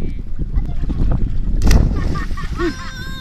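Water splashes in a burst at sea off Villasimius, over a steady wash of moving water, with children's voices chattering nearby.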